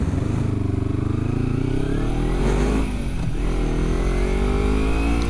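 A car carrying people heads into a city at night, its engine a steady loud drone that holds throughout with a rising rev partway through, close and continuous with no talk.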